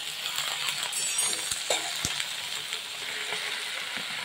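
Note greens fry in a pan with a soft, steady sizzle and occasional light clinks of a stirring utensil against the metal, moderately quiet with no voices.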